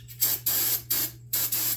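Super Tech spray is shot into the carburetor throat of an old Craftsman lawn mower in four short, sharp hissing bursts, each about a third of a second long and separated by brief gaps.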